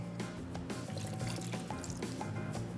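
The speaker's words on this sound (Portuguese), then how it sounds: "Eu vou colocar toda a minha água" Water poured into a bowl of dough ingredients in a kitchen, a steady splashing trickle with scattered drips, close and continuous throughout.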